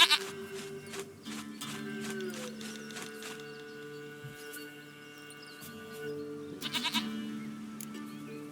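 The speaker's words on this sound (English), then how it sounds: "Goat of mine, dearest, sweetest goat." A pet goat bleats in The Witcher video game, its calls repeating at moderate volume over a steady musical drone and ambient game sounds, with no voices heard.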